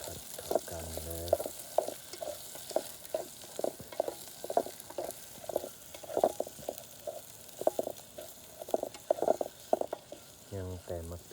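Food is stir-fried in a pan before the tomatoes go in, with a steady, rhythmic scraping and clanking of a utensil against the pan over a low sizzle; a voice speaks briefly near the start and the end.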